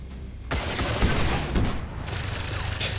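A micro missile fires in XCOM 2: after a half-second of near quiet, a sudden loud blast erupts into a rapid crackling barrage of impacts that continues to the end.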